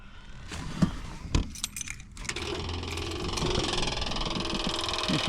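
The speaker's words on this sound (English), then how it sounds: "You can hear the fuel pump charging up the carburetor." Electric fuel pump on a 1958 Packard ticking and buzzing as it charges the carburetor, a steady mechanical hum that starts after a few key jangles and clicks and continues to the end.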